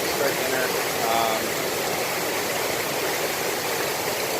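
A loud waterfall roars steadily at a wilderness campsite on the Appalachian Trail, a dense, constant rushing wash that fills the whole scene without letup.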